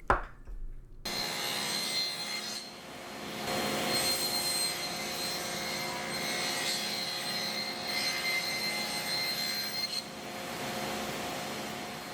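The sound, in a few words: power tool cutting rabbets in wooden cabinet sides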